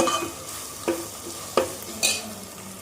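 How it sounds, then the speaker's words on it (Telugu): Two tablespoons of ginger garlic paste fry in the curry base for mutton korma, sizzling steadily, with three distinct spatula scrapes spaced about half a second apart. "ఇందులో పచ్చి వాసన పోయే వరకు మనము ఫ్రై చేసుకుంటూ ఉండాలి."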